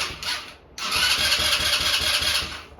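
Chinese 150cc GY6 ATV engine cranking over with a loud, steady mechanical churn and rhythmic pulsing after a brief pause, close to the microphone with no talk.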